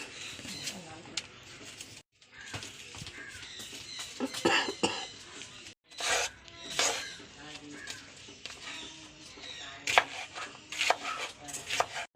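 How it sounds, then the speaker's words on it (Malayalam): A knife chops snake gourd on a board in irregular bursts of sharp taps, while someone talks and coughs nearby. "നമുക്ക് പടവലങ്ങ നുറുക്കാം ആദ്യം"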